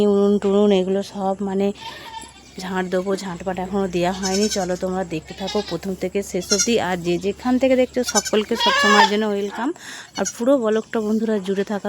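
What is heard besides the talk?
goats bleating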